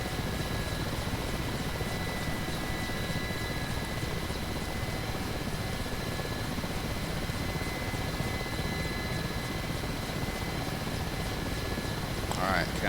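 Mi-8 helicopter in DCS World: rotor and turbine engines give a constant dense drone with a faint high whine throughout, steady and close, with no change in level.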